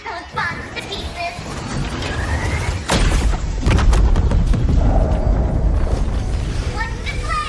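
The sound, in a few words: bombs being blasted, explosions in Wuthering Waves video game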